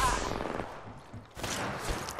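Gunfire in the battle royale game Apex Legends, with rapid bursts of shots crackling close by, a brief lull, then another volley of fire.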